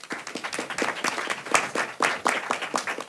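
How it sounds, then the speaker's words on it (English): Audience applause welcoming North Carolina congressman Dr. Greg Murphy at a health policy event, a fairly close, lively round of irregular claps lasting a few seconds. "Round of applause, please."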